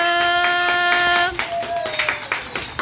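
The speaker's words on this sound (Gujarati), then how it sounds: "ચલો તાળી પાડી દો" Children at an anganwadi clap together in a quick, steady rhythm of sharp claps, over a sustained sung or musical tone that fades about halfway through.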